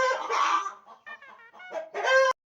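Chickens cluck and squawk nearby in short, excited bursts, one call rising into a crow-like cry before cutting off abruptly.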